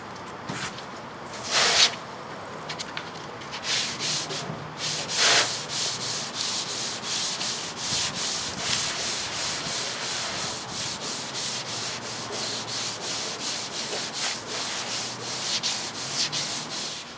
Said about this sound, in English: So I'm going to move on to the 220. I'll get sanding with that